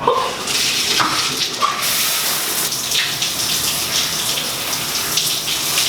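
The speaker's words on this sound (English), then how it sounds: "Time for my first shower." A shower runs steadily up close, a dense continuous hiss of spraying water with faint splashes shifting as someone moves beneath it.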